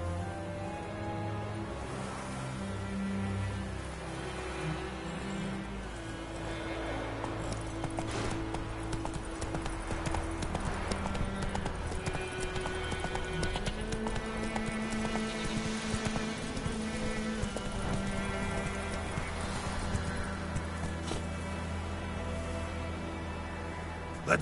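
Roach, the horse in The Witcher 3, clip-clops steadily under continuous game music and ambience, its hooves quiet and evenly paced.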